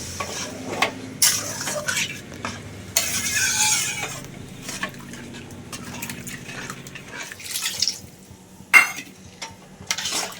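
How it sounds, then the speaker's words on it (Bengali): Water poured into a hot pan of oil-fried potatoes for crab curry, with bursts of hissing sizzle, stirring scrapes and clinks of a utensil against the pan, all close and moderately loud. "এইবারে আমি জলটা দিয়ে দেব"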